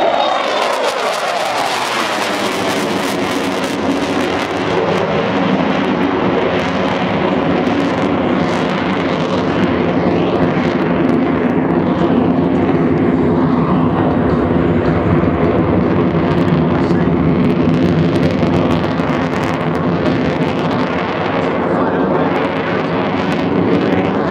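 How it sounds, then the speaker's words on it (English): A US Navy F/A-18F Super Hornet jet roars through a flight demonstration at the 2012 Cleveland National Air Show, a loud, sustained engine blast with wind rumble, near and continuous throughout. "We'll pull the aircraft into the vertical."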